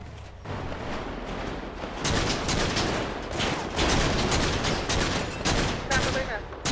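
Rapid bursts of video game gunfire in a gang-versus-police shootout, dense overlapping shots and explosions crackling continuously, growing louder after the first couple of seconds with voices faintly underneath.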